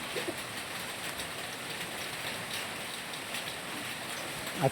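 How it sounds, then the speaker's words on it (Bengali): Steady rain falls on a cloudy hillside near Darjeeling, a constant soft hiss of drops with no breaks, with a faint knock near the end. "এখন সারাদিন বৃষ্টি চলবে"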